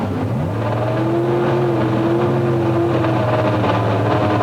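Pro Stock drag cars, Kurt Johnson against Ray Franks at the 1997 NHRA Gatornationals, launch and blast up the strip. Their engines make a loud, sustained roar that climbs in pitch as they accelerate.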